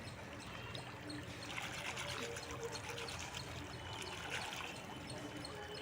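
Water splashes and trickles continuously as palm flowers are rinsed in a flowing stream, with a steady running-water background.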